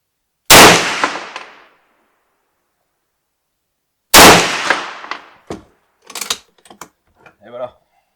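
Two sharp, loud gunshots from an M1 carbine firing WW2-era .30 Carbine ammunition, each with a decaying echo, spaced about three and a half seconds apart, followed by someone speaking.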